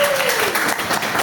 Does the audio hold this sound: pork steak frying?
no